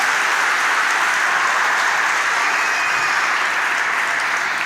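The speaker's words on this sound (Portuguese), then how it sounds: "dá um aplauso a Jesus" Sustained audience applause at a Brazilian church or stage gathering honoring Jesus, a dense steady wash of many hands clapping filling the whole stretch without voices.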